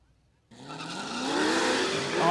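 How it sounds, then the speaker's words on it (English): A Camaro drag race car launching in the left-hand lane at a street drag racing event, silence broken by a sudden loud engine roar that climbs steadily in pitch as it accelerates away, with tire noise. "Camaro making a whole bunch of power left-hand lane."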